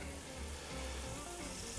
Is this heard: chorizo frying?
yes